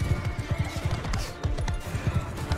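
A horse neighs in a Mount and Blade Bannerlord battle, loud and close, over a steady rhythmic thud of hooves and busy game noise.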